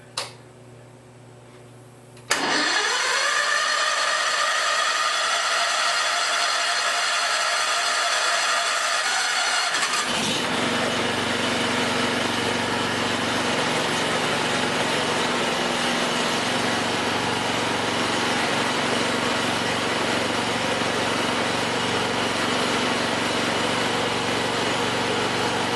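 Harbor Freight Predator 22 HP 670cc engine starting for the first time: a brief crank, then the engine catches and runs loud and steady, with the pitch dropping and settling into a continuous rough idle drone.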